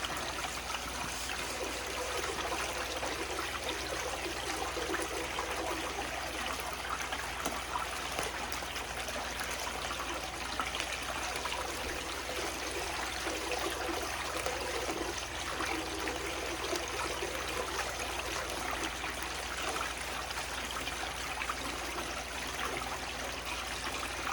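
Water runs steadily over a VDR sluice mat, carrying material through in a constant, even rushing trickle that holds for the whole stretch without a break.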